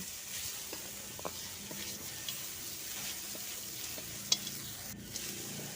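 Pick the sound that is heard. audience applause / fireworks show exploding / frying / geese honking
frying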